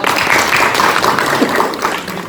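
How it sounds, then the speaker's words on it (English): An audience at a sales training session claps steadily, a dense, even patter of hands that continues throughout and tails off slightly at the end. "Give Rashmi a round of applause."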